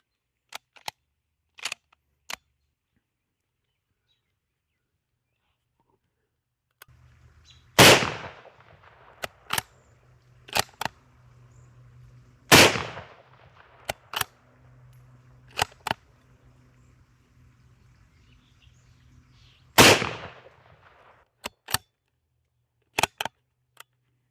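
Three loud, sharp gunshots from a .450 Bushmaster rifle fitted with a muzzle brake ring out outdoors several seconds apart, each with a brief echoing tail, between smaller clicks and handling noises.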